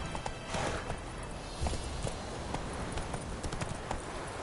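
A horse gallops in the video game The Witcher 3, a steady, fast clip-clop of hooves heard close and continuous, with no talk over it.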